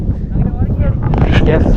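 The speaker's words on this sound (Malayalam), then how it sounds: "നോക്കുമ്പോൾ ഭയങ്കര കാറ്റ്" Strong wind at a campsite roars and buffets the microphone in a continuous low rumble, with muffled voices faintly underneath.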